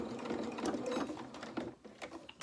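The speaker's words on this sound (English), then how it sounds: "we're just going to back tack here just to reinforce the seam" A sewing machine back tacks to reinforce a seam on a handmade doll's head, its steady mechanical whirring and ticking running close and continuous, easing off briefly toward the end.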